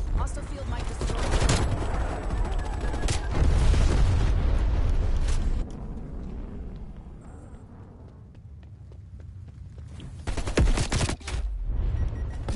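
A semtex grenade blast and gunfire in Call of Duty Cold War, with dense rumbling explosive booms and rapid shots in the first half, then quieter firing and a renewed burst near the end.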